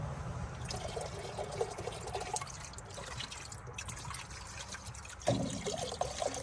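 A mix of acetone and transmission fluid is poured into an old car engine that leaks it out almost as fast, giving a steady close trickle and splashing of liquid with a louder surge near the end.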